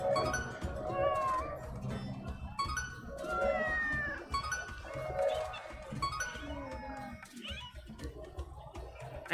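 Several cat meows from the video game Hidden Cats in Istanbul, set in Istanbul with an Anatolian cat, repeat in short bursts over game music, moderately loud and close.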